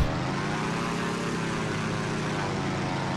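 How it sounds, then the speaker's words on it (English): A propeller airplane drones steadily overhead in the submarine game Silent Hunter III, a loud continuous engine hum with no pause. "Let's go to the plane that I can see."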